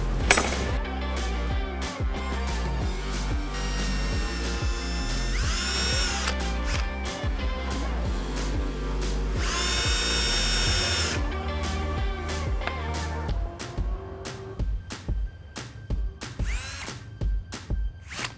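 Power drill driving screws into a wooden spice rack, with close, loud whirring bursts that rise and fall across several screws, then end in a series of short sharp knocks and clicks.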